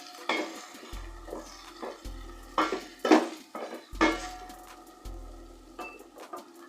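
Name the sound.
chopped olives mixed with turmeric, stirred in a pot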